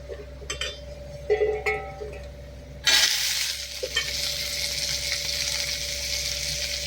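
Grated coconut is stirred and roasted in a pan for an avarakkai and moong dal rice dish, with a few light clinks and scrapes, then a sudden burst of strong close sizzling that holds steady to the end.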